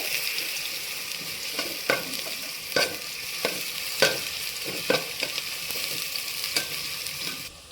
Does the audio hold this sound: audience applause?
no